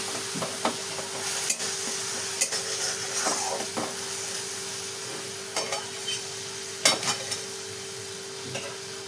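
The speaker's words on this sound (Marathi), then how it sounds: "आणि मग इथे हिरवी मिरची लसूण जिरे वाटलेले येतात मिक्स करून घेतले" Ground green chilli, garlic and cumin paste being stirred in a pan for a radish dish, a soft steady sizzle with scattered scraping clicks of a spoon against the pan.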